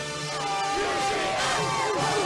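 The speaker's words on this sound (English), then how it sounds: "Tens of thousands of people Cheering on the UGA Bulldogs." A large crowd of UGA Bulldogs fans cheers at a college football national championship parade in Georgia, a dense roar of voices and whoops with rising shouts, loud and continuous.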